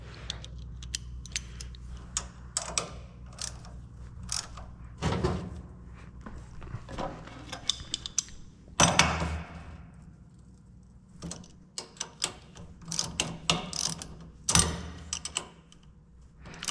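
A wrench tightens bolts on the throat of a Gleaner R52 combine, giving scattered metallic clicks, ratcheting ticks and clunks at irregular intervals, close by with no talking.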